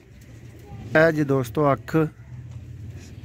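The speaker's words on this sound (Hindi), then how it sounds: "सलेटी चूहे कबूतर" Grey Sialkoti chuhay pigeons coo nearby in a short run of low, throaty, rolling calls, with a quiet background hum.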